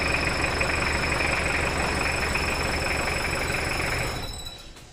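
An old diesel SUV engine idles steadily with a low, knocking rumble and a faint whine, then cuts off and fades out near the end.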